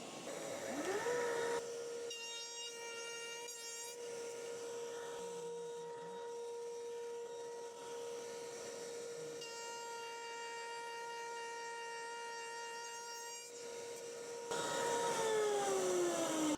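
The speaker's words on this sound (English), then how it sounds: "Let's put the extractor back on." A dust extractor drones steadily while a router table spindle spins up with a rising whine, holds a high tonal scream through a cut, then winds down as the extractor keeps running.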